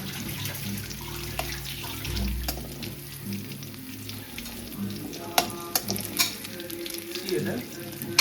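Chicken bora fritters fry in hot oil with a steady close sizzle, broken by occasional clinks and crackles, and no voices.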